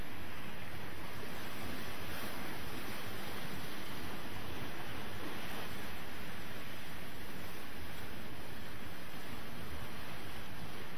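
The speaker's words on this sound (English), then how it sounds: "we are here in Cancún having a very good time with this beautiful beach" Surf on a beach in Cancún, heard as a constant, loud roar of waves with wind noise buffeting the microphone and no distinct voices standing out.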